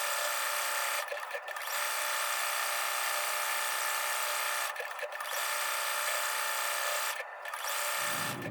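A sewing machine runs steadily while stitching a zigzag applique on an apron, a continuous close mechanical whir broken by three brief pauses and stopping near the end.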